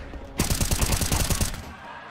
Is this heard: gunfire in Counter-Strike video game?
yes